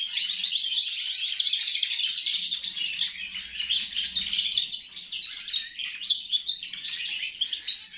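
A canary sings a goldfinch-like song, a continuous stream of bright, rapid chirps, trills and twitters, close and loud, running without pause.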